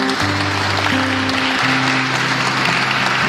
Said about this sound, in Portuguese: Vamos receber ele, uma salva de palmas.